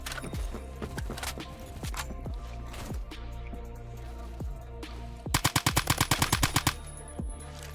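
Rapid gunfire from a G3A3 rifle in the shooter game Phantom Forces: scattered single shots and short bursts, then a loud fast string of about a dozen rounds near the end.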